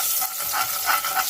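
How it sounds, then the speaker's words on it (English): Curry, garlic and pepper frying in hot coconut oil in a pan for Jamaican curry chicken, a loud steady close sizzle with gentle stirring swells throughout. "So that's the curry, the garlic, and the pepper burning together"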